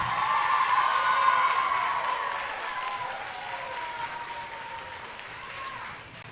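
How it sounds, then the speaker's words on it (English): An audience at a school spelling bee applauds steadily for two contestants, a dense wash of clapping that swells early and slowly fades over several seconds. "Give these two gentlemen a round of applause here."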